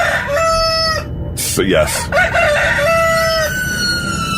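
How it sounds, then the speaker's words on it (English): A rooster crows loudly in open outdoor land, its drawn-out call rising and falling over steady background noise, with a brief spoken remark in between. "We have definitely got a ghost rooster."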